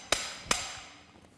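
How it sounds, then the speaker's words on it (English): Two sharp metallic impacts from a slide hammer knocking a bearing loose inside a tractor engine during a rebuild, spaced about a third of a second apart, each ringing briefly before fading, with no talk. "pound the bearing out"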